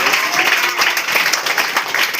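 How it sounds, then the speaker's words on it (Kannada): Loud, dense clapping from a crowd honouring three student candidates, sustained and even throughout the short stretch. "ಮಧ್ಯದಾಗಿ ಜೋರಾದ ಚಪ್ಪಾಳೆ"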